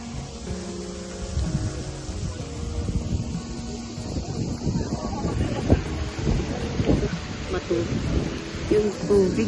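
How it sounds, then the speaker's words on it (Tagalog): Gusty wind blows outdoors, buffeting the microphone with rough low rumbling that swells and eases, alongside faint voices and some indistinct outdoor sounds. "Ang hangin kasi dito papunta."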